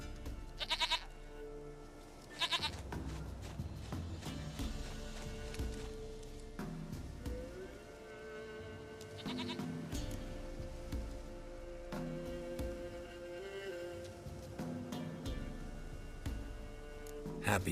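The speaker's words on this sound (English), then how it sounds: "Goat of mine, dearest, sweetest goat." A goat in The Witcher 3 bleats a few times among layered game music and ambient sound, its short cries rising clearly near the start and again around the middle.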